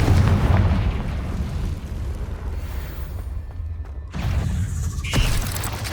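Fiery Confringo blast spell cast in Hogwarts Legacy, heard as loud booming bursts with a rumbling tail, a second burst hitting around the four-second mark, no talk.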